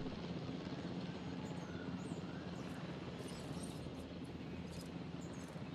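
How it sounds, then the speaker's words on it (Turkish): A helicopter flies in the video game Jurassic World Evolution, its rotor and engine making a steady, dense drone that holds at an even level throughout without breaks. "Bakın, şu an helikopteri ben kontrol ediyorum."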